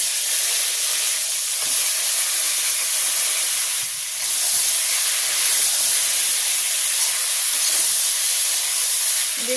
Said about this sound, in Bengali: শুধু তেল দিয়ে ভাজি করব।